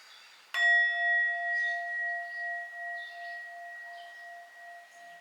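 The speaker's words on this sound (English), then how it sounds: "We will do the sound bowl just for one ping to tune into the energy" A single struck singing bowl rings out, its clear sustained tones slowly pulsing and fading over several seconds.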